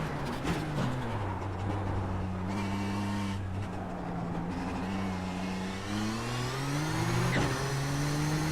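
A Nissan GTP ZX-T prototype racer lapping Spa-Francorchamps in the iRacing video game, its engine droning continuously and loudly as the pitch rises and falls through gear changes and throttle lifts, with no voices.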